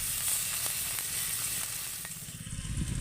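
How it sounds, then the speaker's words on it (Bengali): Ginger and garlic sizzle steadily with onions in hot oil in a home kitchen, a dense continuous frying hiss with faint stirring clicks, alone and fairly close. "আদা আর রসুনটাকেও আমি ভালো করে পেঁয়াজের সাথে আরেকটু ভেজে নেব"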